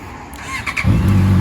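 A Honda CB650 or Yamaha R3 motorcycle engine catches partway through, moving from a quiet idle hum to a loud, close, deep steady throb after a brief sputtering start.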